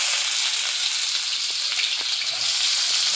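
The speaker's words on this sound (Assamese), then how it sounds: "এয়া পিঁয়াজ দিছে, জলকীয়া দিছে ফাৰ্ষ্ট। এইখিনি অকণমান ফ্ৰাই হ'ব দিব" Onions and green chillies frying in a pan for egg keema, a steady, bright hiss of sizzling oil, even and close, with no speech over it.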